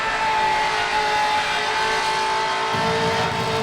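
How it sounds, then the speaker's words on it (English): A drift car with a swapped LS V8 revs loudly and steadily up close at the Yas Marina circuit in Abu Dhabi during a drift event, its deep exhaust droning with no speech. "He's going to miss that exhaust note as well"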